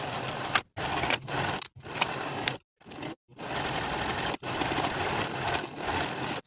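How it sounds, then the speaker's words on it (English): A sewing machine runs in repeated bursts, stitching the sleeves of a sweatshirt in place with a half-inch seam, each run stopping briefly before starting again, close and steady. "Sew both sleeves in place with a 1/2 inch seam allowance"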